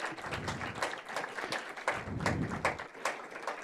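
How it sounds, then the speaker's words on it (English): An audience at a live indoor event on an upper floor claps steadily, a dense patter of many hands sustained without pause throughout. "Can we have a big round of applause for them?"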